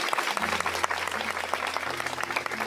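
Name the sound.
congregation applauding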